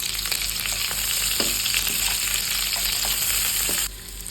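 Large-cut onions fry in hot oil in a pan for chutney, making a close, continuous sizzle with soft stirring clicks. The sizzle drops abruptly in loudness near the end.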